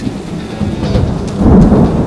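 A tropical thunderstorm during the monsoon season in Singapore brings heavy steady rain with a deep rolling rumble of thunder that swells louder in the second half.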